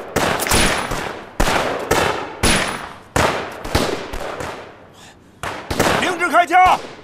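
Gunfire in an anti-Japanese war film where bandits and Nationalist soldiers clash: several loud, close bursts of rapid shots separated by short pauses, with a shouting voice over the last burst.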